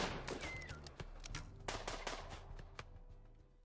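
Turret gunfire in the video game Rimworld, a rapid run of sharp shots cracking over a dense background of game noise and music, steady bursts throughout.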